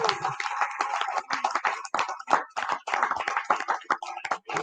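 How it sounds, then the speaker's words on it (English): Scattered clapping from a town hall meeting audience, close and fairly loud with uneven, irregular hand claps filling the whole stretch. "We're going to have another round of applause."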